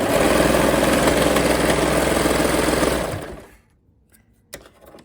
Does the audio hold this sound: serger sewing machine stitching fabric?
yes